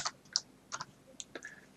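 Keys on a computer keyboard are struck in a short, quiet burst of a few irregular clicks nearby.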